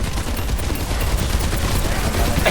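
Dense, continuous automatic gunfire from a shooter match in Overwatch 2, a loud, unbroken barrage of rapid shots with a voice faintly present underneath.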